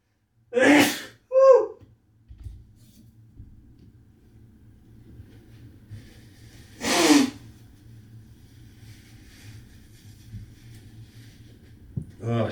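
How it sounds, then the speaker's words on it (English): A sharp sneeze bursts out, followed by a short sniffle and then a second loud sneeze, with a low engine hum in the background. "I'm gonna sneeze."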